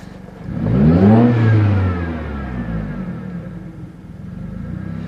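A turbocharged 2017 Subaru Forester engine revs up once with a rising whine, then settles back into a steady rumble, loud and close.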